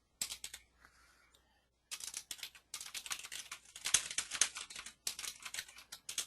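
Rapid, uneven bursts of keystrokes on a computer keyboard, close and fairly quiet, with a brief pause near the start before steady typing resumes.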